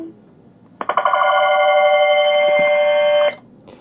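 A Cisco IP desk phone on an Asterisk phone system rings with a bright electronic tone that rises in quick pulses, then holds steady for about two and a half seconds before cutting off, loud and close in a quiet room.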